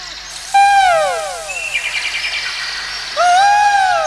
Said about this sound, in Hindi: कोयल बोलने लगी